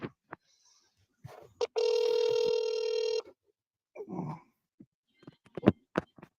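A telephone ringback tone sounds once for about a second and a half while a call to a specialist is placed, a steady buzzing ring heard between scattered clicks, handling noises and faint breaths.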